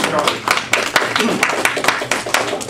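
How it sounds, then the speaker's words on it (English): A small audience at a College of Complexes forum claps for the organizers, with distinct, uneven hand claps from a modest group that are loud and close, and a voice talking over them. "Let's uh, uh give a round of applause to the College of Complexes and Tim"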